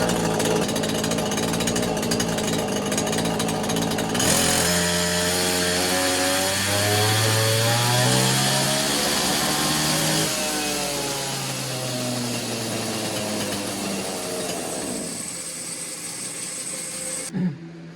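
A Neotec 843 43cc chainsaw, a clone of the Husqvarna 543XP, runs close and loud, shifting from a rough buzz into a revving two-stroke whine with wavering pitch on a dyno, then settling before cutting off.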